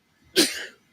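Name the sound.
sneeze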